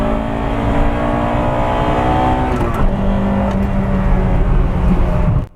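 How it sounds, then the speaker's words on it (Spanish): An Acura Integra Type R's VTEC four-cylinder revs hard under acceleration, a loud, continuous engine roar that climbs in pitch, briefly dips at a gear change, then keeps pulling until it cuts off. "se vuelve progresivamente más rápido conforme subes en el rango de revoluciones, que era exactamente la idea del VTEC"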